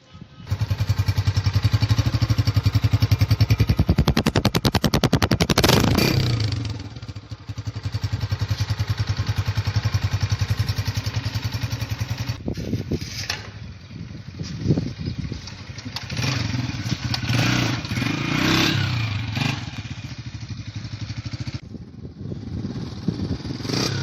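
A Honda 125 motorcycle engine runs close by, idling with a clattering putter and a few revs rising and falling, with no talk.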